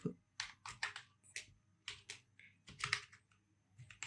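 Bursts of close computer keyboard typing in a terminal, quick clustered keystrokes with brief pauses between groups, quiet and on its own.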